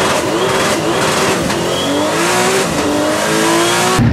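Turbocharged race car at German Race Wars 2024 pulls away hard, loud and close. The engine note climbs through rising revs, with repeated upward sweeps as it accelerates.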